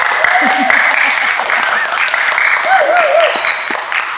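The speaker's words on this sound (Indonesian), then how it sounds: "Tepuk tangannya mana?" A crowd applauds steadily throughout, a dense wash of clapping at moderate volume with no voices over it.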